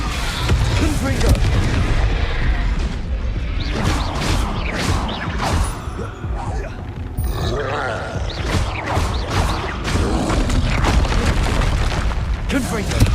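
Repeated booming blasts from the Confringo spell in the video game Hogwarts Legacy, loud and dense, layered with crackling impacts and game effects throughout with speech-like sound mixed in.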